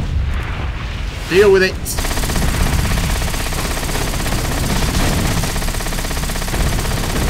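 Gunfire in World of Warcraft, Mists of Pandaria beta, rattling on continuously as a dense stream of shots and impacts, with a short spoken line heard near the start.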